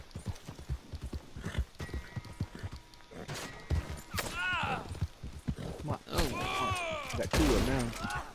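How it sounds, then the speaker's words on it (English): Scattered gunshots in a big gun battle in Red Dead Redemption 2, heard beneath horse hooves clip-clopping and whinnying, with no voices. "Because we're in a big gun battle."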